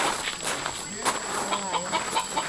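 Chicken clucking, soft and fairly faint, in short broken bursts mixed with background noise and faint voices.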